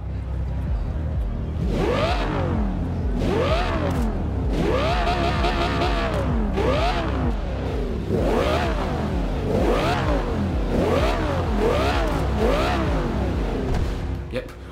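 An Audi R8 V10 Plus in Forza Horizon 2 revving repeatedly in place, about seven sharp blips in an even rhythm, each climbing and falling quickly, loud and close.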